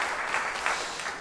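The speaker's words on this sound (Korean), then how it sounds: "박수 감사합니다" Applause from a church congregation after a choir's hymn, a steady wash of many hands clapping throughout, fairly close and even in level with no voices over it.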